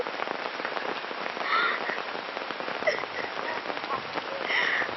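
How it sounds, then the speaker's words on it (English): Constant heavy rain falling in the jungle, a dense unbroken hiss of drops hitting surfaces with occasional louder splatters, close and steady throughout. "For Luke, the constant rain and tough conditions are proving too much."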